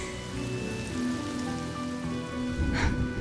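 In the video game Honkai Star Rail, steady rain patters and hisses across the whole stretch, with soft sustained music tones underneath and a brief louder splash near the end; no speech.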